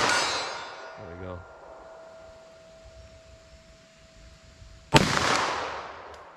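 Two sharp, loud shots from a Glock pistol firing Super Vel 10mm ammunition outdoors, one at the start and another near the end, each with a ringing, decaying tail and quiet between them.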